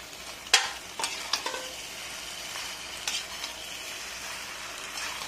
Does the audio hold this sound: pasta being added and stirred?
yes